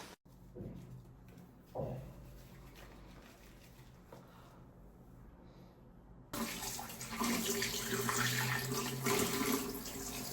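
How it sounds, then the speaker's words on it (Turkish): Water from a bathroom tap starts running partway through as someone washes their face, a sudden steady rushing stream that stays fairly loud and close after a quieter stretch of faint room noise and small clicks. "Yüzünüzü de iyice yıkayın."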